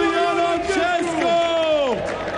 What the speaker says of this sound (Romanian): aplauze pentru Ion Oncescu!